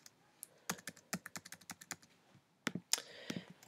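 Computer keyboard typing in a classroom writing lesson: a quick, irregular run of light, close clicks, then a short pause before a denser burst of keystrokes.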